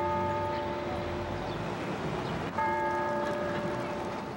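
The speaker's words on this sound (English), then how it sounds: "The church bells of the Cathedral of St. John the Divine in Upper Manhattan tolled" Deep church bells of the Cathedral of St. John the Divine in Upper Manhattan toll with a long ringing hum, a fresh strike landing midway, heard from a distance over steady city background noise.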